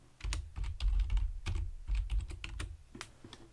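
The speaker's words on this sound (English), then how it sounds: "and I'll type in book now" Rapid typing on a computer keyboard, close and fairly quiet, with clusters of key clicks and thumps running steadily for a few seconds without pause.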